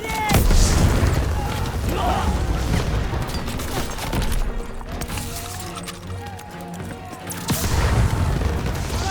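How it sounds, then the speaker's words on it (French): A grenade and heavy battle noise in the World War II shooter Call of Duty WWII, deep booms and gunfire rumbling with running footsteps, while voices shout in French. "Grenade à envoyer!"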